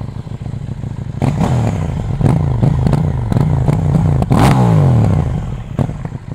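A KTM 790 Duke motorcycle with its stock exhaust revs loudly and close, a throbbing engine rising and falling through several blips with rattly mechanical clatter, the last and longest surge peaking before it settles back.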